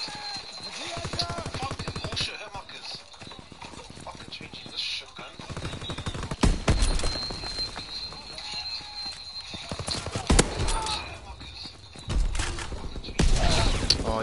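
Rapid automatic gunfire from a shooter video game rattles through most of the stretch in dense, continuous bursts, with a voice talking over it at times.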